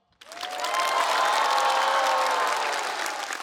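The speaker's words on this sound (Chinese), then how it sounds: "我也可以享受这种掌声了" Audience at a live stand-up comedy show bursts into applause, a sudden start swelling into sustained loud clapping with some cheering that holds steady before easing slightly.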